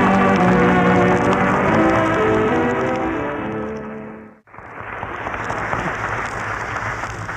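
A studio audience on a vintage comedy radio show claps loudly and steadily. The applause fades to near silence, then a second, softer round of clapping rises.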